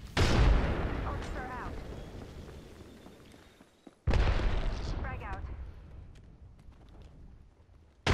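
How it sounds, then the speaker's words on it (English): A thermite grenade exploding in the video game Apex Legends: two loud, deep blasts a few seconds apart, each followed by a long rumbling decay, with brief voices heard during the fading rumble. "Thermite grenade out."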